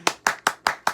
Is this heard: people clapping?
yes